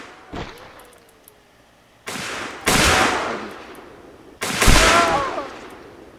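Gunfire in a US Civil War game mod, a faint distant pop followed by two loud, close musket shots several seconds apart, each with a long rumbling tail.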